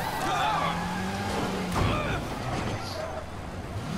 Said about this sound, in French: il arrête le véhicule